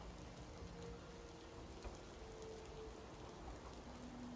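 Steady rainfall in a video game, a continuous even hiss of falling water with no pauses and no one speaking.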